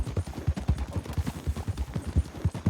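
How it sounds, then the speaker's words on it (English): Hoofbeats of an Arabian horse in a video game, a rapid rhythmic clip-clop of hooves at a steady gait, close and fairly loud throughout with no one speaking. "What kind of horse is it? Arabian?"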